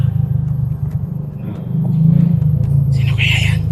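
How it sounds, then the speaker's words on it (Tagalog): A motorcycle engine rumbles low and steady, growing slightly louder as it approaches, with faint voices and background noise around it. "May dumating ng motor."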